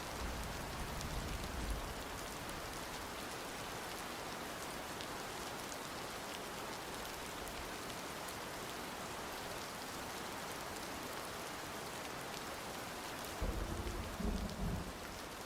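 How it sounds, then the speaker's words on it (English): Steady heavy rain hisses on a surface throughout, with low rumbles of rolling thunder near the start and a louder thunder burst toward the end; no talk. "That thunder is rolling, rolling, rolling."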